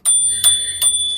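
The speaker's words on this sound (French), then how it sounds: "Sonnette." The bell on a DYU C2 folding bike rings three times in quick succession, bright and close, each ding ringing clearly on its own with no talk over it.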